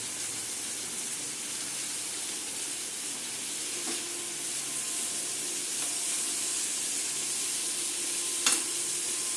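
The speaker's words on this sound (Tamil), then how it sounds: "ஸ்லோ ஃப்ளேம்ல வச்சு நல்லா வதக்கிக்கலாம்." Potatoes sauté in a pan over a slow flame, giving a soft, even sizzle that holds steady throughout, with a couple of faint clinks from stirring.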